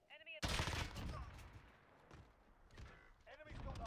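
M4 rifle fire in a video game, a loud close burst of rapid shots followed by continuing gunfire and game sounds, with a voice audible at the start and end.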